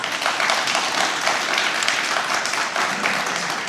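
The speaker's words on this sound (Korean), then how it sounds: "우리 모두 박수의 뜻으로 환영을 표합니다." Assembled audience at an award ceremony for the independence activist of the month applauding to welcome the Gyeonggi Province governor, a loud, dense and continuous round of clapping without any voices.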